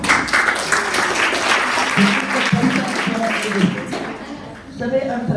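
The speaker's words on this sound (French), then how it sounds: "Bien sûr, pour la chanson, on va applaudir Madame Zena." An audience at a literary café applauds Madame Zena after her song, sustained clapping that carries on throughout while voices speak over it.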